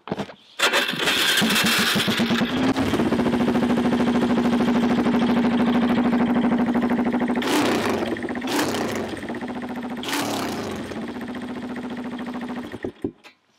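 A used quad ATV's engine cranks and catches, then idles loudly and steadily up close, with a few sharp throttle blips near the end before it cuts off.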